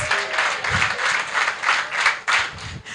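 An audience clapping on cue at a women's empowerment event, rhythmic bursts of applause in steady pulses, fairly close and bright, with no voices over it.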